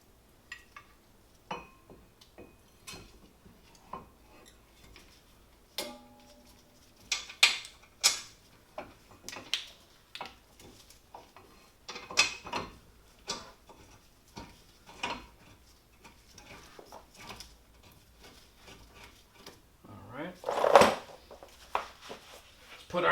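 A ratchet works a brake caliper bolt on a 2012 Nissan Sentra during a brake rotor change, giving close, irregular bursts of clicking and metallic clatter with short pauses between them.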